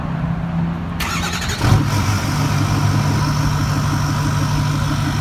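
Ford F250 Super Duty Powerstroke 6.4 diesel with a DPF delete pipe cranking, catching with a rising roar, then settling into a steady, loud, throbbing idle close by.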